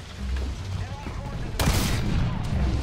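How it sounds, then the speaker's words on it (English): Enemy gunfire in the DCS World flight combat game rattles in a sustained rapid burst that grows louder partway through, mixed with low engine rumble and heard under voices talking. "he's shooting at you now"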